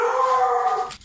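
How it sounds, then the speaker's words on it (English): A single dog lets out a drawn-out howl close by for about a second, cutting off abruptly at the end. "sorry about the dogs."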